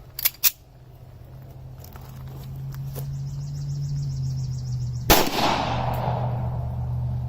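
A single sharp, loud pistol shot from a Rock Island Armory M1911 A1-FS rings out midway with a lingering tail, preceded by a couple of faint clicks over a steady low hum.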